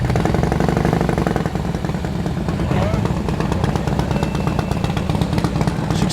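A tough motorcycle idles and rumbles close by as it arrives at an outdoor evening car show in Sydney, a steady loud engine throb running the whole time with crowd noise and voices mixed in underneath.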